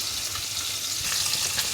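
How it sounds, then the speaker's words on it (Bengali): Small puti fish fry crisply in a pan, a dense, even sizzle of hot oil spitting throughout, close and fairly loud with no voices. "আর এখানে কয়েকটা পুঁটি মাছ আছে, সেগুলো একটু কড়া করে ভেজে নিচ্ছি।"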